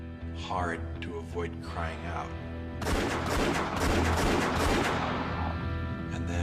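A rapid volley of gunshots rings out in a reenacted shooting of Che Guevara, loud sharp bursts fired in quick succession after a few seconds of quieter sound.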